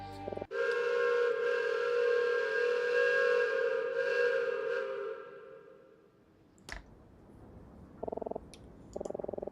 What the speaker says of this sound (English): I knew the train whistle were loud, but that was completely deafening